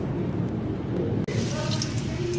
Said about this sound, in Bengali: বজ্রপাত, কি বলবো, প্রত্যেক দিন এখন ঝড় বৃষ্টি হচ্ছে